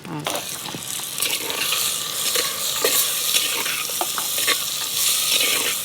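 Boiled papaya and dried chillies are sautéed in a pan, giving a steady close sizzle with frequent scraping and stirring clicks of a spoon against the metal throughout.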